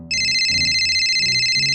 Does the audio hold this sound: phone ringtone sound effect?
yes